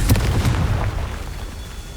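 A Confringo spell goes off in Hogwarts Legacy as a loud, heavy blast, starting with a deep booming rumble that fades slowly into a low tail, with no voices.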